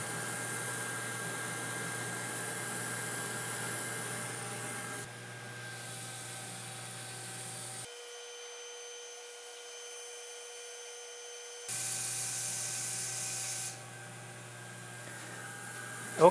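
Steady whirring of an xTool D1 laser cutting through layers of stacked wood chips, with a constant fan-like hiss and hum that drops and rises in level partway through, close and continuous, with no speech.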